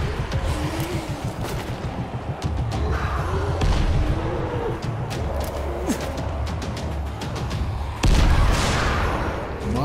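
Video game firecrackers in Dying Light: rapid crackling pops and bangs burst continuously in a dense barrage, with sharper louder blasts near the end, over a busy background.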